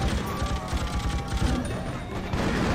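Gunfire in the video game Freedom Fighters, set at a Manhattan TV station: a short stretch of rapid, continuous shooting with rhythmic pulses, loud and close within a dense battle mix.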